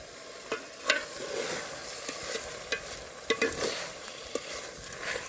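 Prawns fry in a pan with curry leaves, crackling with a steady broadband sizzle while a spoon stirs, scraping in irregular louder bursts; close by, no talking.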